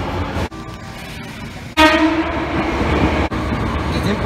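A loud train horn from an Osaka private railway train blasts near, holding a steady harmonic tone over the rumble of a passing train, with wheels clattering underneath.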